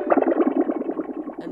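A piano processed through atmospheric effects with the reverb at half, so a quick run of notes stays distinct, each plucked onset standing out against a lighter shimmering tail.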